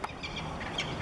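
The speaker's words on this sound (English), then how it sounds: "another falcon came in. They're talking. E-chirping, listen to that." Brief, faint chirping call of a falcon, a couple of short high notes over quiet background, heard alone without speech.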